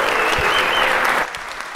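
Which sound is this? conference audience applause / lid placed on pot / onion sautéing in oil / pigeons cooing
conference audience applause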